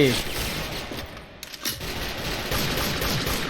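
Rapid M1 Carbine gunfire in a video game crackles in dense bursts, loud and continuous, with a brief lull in the middle before the shooting resumes.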